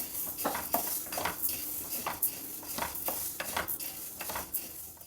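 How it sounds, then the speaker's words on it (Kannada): Moong dal being dry roasted and stirred in a pan over a low flame, with repeated scraping and soft rattling of the lentils against the metal in an irregular rhythm, close by and without speech. "ಈಗ 3/4 ಬಟ್ಲಷ್ಟು ಹೆಸರು ಬೇಳೆ, ಅದನ್ನು ಹುರ್ಕೊಳ್ಬೇಕು. ಕಡಿಮೆ ಉರಿ ಇಟ್ಕೊಂಡು ಹದವಾಗಿ ಹುರ್ಕೊಳ್ಳೋಣ."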